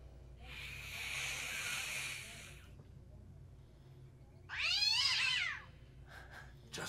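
Cartoon cat from the Batman animated series, one long strained meow followed a couple of seconds later by a sharper wavering yowl, fairly loud over a low background hum.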